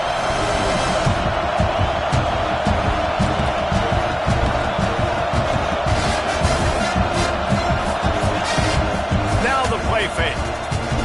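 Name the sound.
stadium crowd roaring at football game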